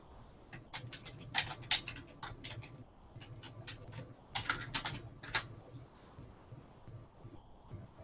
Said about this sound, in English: And you just type in your username and password.